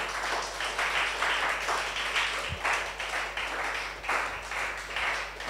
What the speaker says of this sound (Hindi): देखो ताली बजाऊंगी मैं इस सिस्टर के लिए